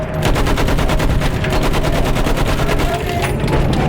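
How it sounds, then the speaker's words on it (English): Sustained machine-gun fire in the World War I shooter Battlefield 1, a rapid, unbroken rattle of shots lasting the full four seconds, loud and close with dense regular bursts. "Use that machine gun! Mow them down!"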